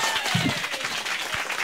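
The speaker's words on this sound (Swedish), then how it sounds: "Jag vill att ni ger en stor applåd för kvällens huvudnummer, Lena Frisk." Brief applause from a stand-up comedy night audience, a short burst of clapping at moderate level with some crowd noise mixed in.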